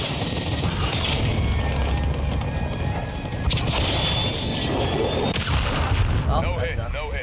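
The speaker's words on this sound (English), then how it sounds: "Rodent 6-2, cruise missile away." A cruise missile strike in the multiplayer shooter Call of Duty MWII lands as a dense wall of booming blasts and crashing debris, with a sharp whistling streak, sustained and loud, with voices faintly under it.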